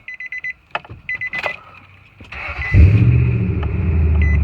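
A car engine is jump-started with a NEXPOW 12,800 mAh portable jump starter: a rapid chime-like beeping, a few clicks, then the engine cranks and catches, settling into a loud, steady idle close by.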